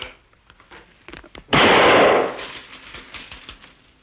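A single loud gunshot blast with a sustained roar lasting about half a second, set among scattered clatter and movement.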